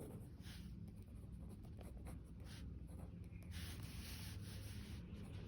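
Pen or marker strokes on a board as a geometry proof about tangents to a circle is written out, giving a steady close scratching and rubbing with short repeated strokes over a constant background hiss.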